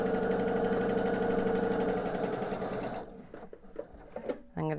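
A sewing machine stitches quilt blocks for an Infinity Stones quilt in a fast, steady, close-up run for about three seconds, then stops, leaving a few clicks and handling noises.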